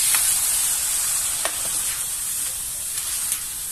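Half a kilo of pork sautés in a hot, already smoking pan with shrimp paste, giving a steady close sizzle with a few soft stirring clicks and no talk.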